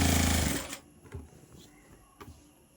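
A sewing machine stitching a one-inch fold of fabric, a loud fast whirring run that stops after half a second, followed by a few faint mechanical clicks and thumps.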